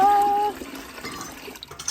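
Warm water pours from a tap into a basin for a hand bath, a brief close splashing rush that settles into softer trickling.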